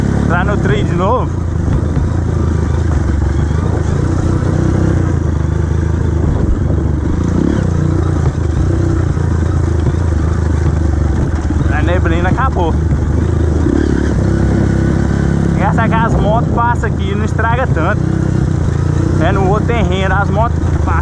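Motorcycles riding a dirt trail in the Serra da Canastra, their engines droning steadily and loud throughout with revving swells, while people talk over the noise.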